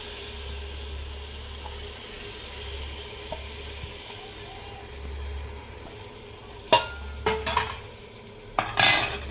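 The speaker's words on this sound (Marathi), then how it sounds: "आपण याच्यात तांदूळ घालून घेणार आहोत" Basmati rice is added to a pot for soybean rice. It is heard as a steady low sizzle, then several sharp close clinks and scrapes of a utensil against the pot near the end.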